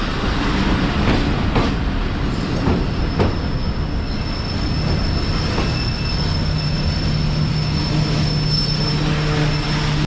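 Sialkot Express approaching Qila Suba Singh railway station, a steady rumble of rolling carriages with wheel clatter and a long sustained squeal, loud and continuous throughout with no talk.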